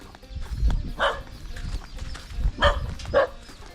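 A dog barks a few times out in open farm fields, short sharp bursts separated by pauses, moderately near, with outdoor background noise and brief talk around it.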